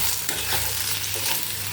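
Potato pieces for a pepper fry cook in a pan without oil while being stirred. A steady, close sizzle runs throughout, broken by soft scraping stirs, with no talking.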